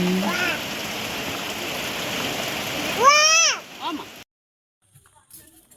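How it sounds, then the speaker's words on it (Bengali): Steady heavy rain hisses for about four seconds, with a voice briefly speaking over it near the end before it cuts to near silence. "এদিকে প্রচুর বৃষ্টি"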